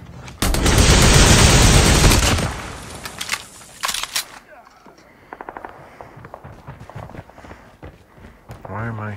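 Loud automatic gunfire bursts in the mobile game Call of Duty Mobile, a dense roar of shots for about two seconds, then scattered pops, footsteps and clicks under a player's voice.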